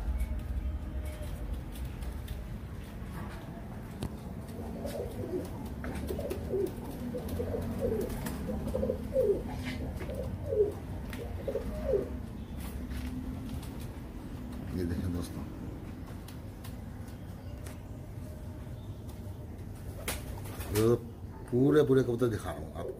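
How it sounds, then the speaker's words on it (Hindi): Kalsare pigeons cooing in a loft: soft, low, repeated coos under a steady background hum, with a person talking over much of it. "ये कलसरे कबूतर है, घेरे कबूतर है कलसरे।"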